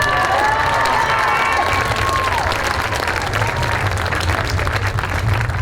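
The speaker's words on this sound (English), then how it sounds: "You can tell from that applause" Applause from the audience at a marching band community night honoring a senior, dense sustained clapping with some cheering from the crowd, loud and continuous throughout.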